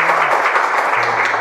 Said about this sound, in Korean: 다시 믿는다는 이야기가 나오니까 박수 소리가 커집니다